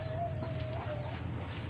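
An Ayam Cemani chicken gives a drawn-out, nasal clucking call over a steady low background hum, fairly close and moderately loud.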